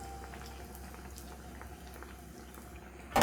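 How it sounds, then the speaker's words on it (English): Mahamri frying in hot oil give a soft, steady bubbling crackle with faint pops throughout, low and close, ending in a sudden louder burst. "Then let them fry."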